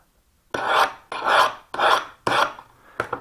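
A special scraper file rasps across the edge of a steel sash profile scraper, held at a 65-degree angle, in five firm, evenly spaced strokes. Each stroke is close and crisp, with silence between.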